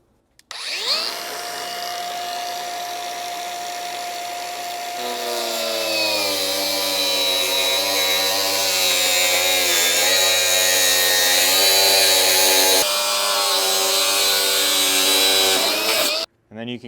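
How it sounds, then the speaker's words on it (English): A cutoff wheel slicing through the Blitz slider mounting area on a Lexus GX460, a loud sustained high whine that shifts pitch as it bites into metal, running about fifteen seconds before stopping abruptly. "we're going to grab our cutoff wheel and go ahead and make those cuts"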